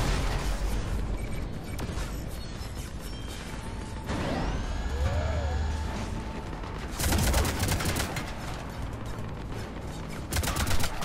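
Video game combat in Mass Effect 3 with beam rifle fire: a low rumble of shots and mechanical clatter, a swooping whoosh midway, and several louder bursts of firing later on.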